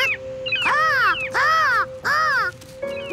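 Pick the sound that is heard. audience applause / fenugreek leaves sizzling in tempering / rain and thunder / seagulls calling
seagulls calling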